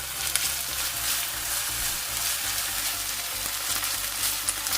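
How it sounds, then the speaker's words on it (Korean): Sliced green onion stir-fries in two tablespoons of cooking oil in a pan over medium heat, giving a steady close sizzle with soft crackle throughout and a low hum underneath, with no voices. "팬에 식용유 두 큰술을 두르고 대파를 넣고 중불에서 볶아 파기름을 내줍니다"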